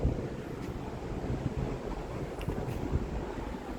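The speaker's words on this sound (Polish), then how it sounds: "Zobaczcie jak wieje" Strong wind gusting across open countryside dotted with wind turbines, a steady low roar buffeting the microphone with a few louder gusts, no voices.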